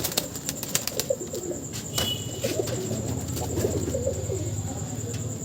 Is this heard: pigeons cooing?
yes